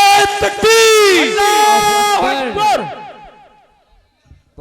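A religious gathering's crowd roars back in unison after a Takbir slogan call, a loud sustained chant of many voices that swells, holds for a couple of seconds, then fades out into near quiet.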